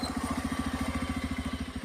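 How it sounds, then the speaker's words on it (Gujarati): A motorcycle engine close by, a quick even putter of low throbbing pulses at moderate level for a couple of seconds. "પેલું બાઈક આવે એ જ નહીં ભાઈ?"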